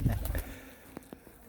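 Pigeons coo at close range, with a low, soft burble at the start and then a few brief, faint calls spaced apart.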